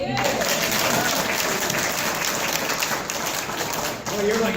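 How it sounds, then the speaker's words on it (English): Steady, dense applause from a town hall audience, continuous and fairly loud for several seconds, with a brief voice near the end. "you get applause even before you ask the question"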